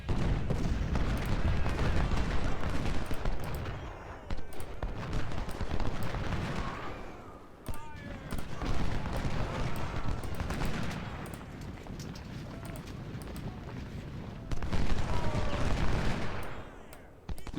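Massed rifle volleys and artillery fire in Ultimate General: Civil War, a dense, continuous crackle of musketry with booming cannon shots rolling through the battle, steady and loud throughout.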